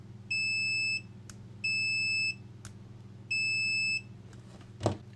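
A Kaiweets KM312A compact multimeter gives three steady high-pitched continuity-test beeps, each lasting under a second with pauses between, over a faint low electrical hum and a soft click near the end.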